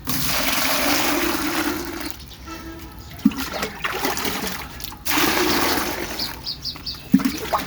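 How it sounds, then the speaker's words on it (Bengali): Water splashes and pours out in long gushing runs for mixing chicken feed, broken by a brief lull and a few sharp knocks, with no talk. "এই যে পানিগুলো ওদিকে দিয়ে আবার মিশাবো।"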